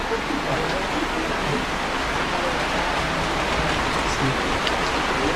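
Steady, dense rain pours down outdoors in a constant broadband hiss with no breaks, filling the scene evenly from start to finish.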